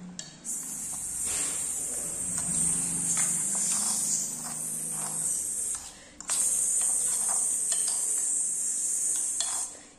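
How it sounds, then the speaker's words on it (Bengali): Vegetables, including tomatoes, stirred in a frying pan, with scraping strokes against the pan, a gentle sizzle and brief clinks, close and fairly quiet, and a short pause midway. "তুমি নাড়া দাও, একটু ভালো করে ভাজো।"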